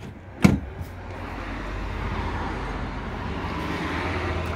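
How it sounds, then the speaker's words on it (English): The entrance door of a Dethleffs Trend 7057 integrated motorhome opens with one sharp, close latch click and thump, followed by a quiet, steady ambient hum. "Listen to the door opening."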